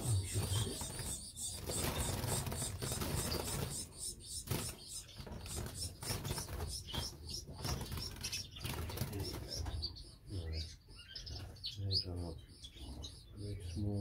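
Young Irish Fancy canaries flutter and flap in an aviary cage while a small bird chirps intermittently, close and fairly loud, with bursts of wing-beating throughout.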